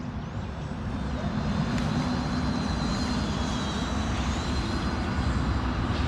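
A Volantex Trainstar 500mm RC plane flies at full speed into the wind, its electric motor and propeller giving a steady, sustained buzzing whine that holds level throughout.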